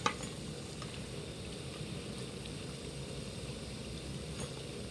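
Masala vada fry in oil on a low flame, giving a steady, quiet sizzle and crackle that stays even throughout with no talking.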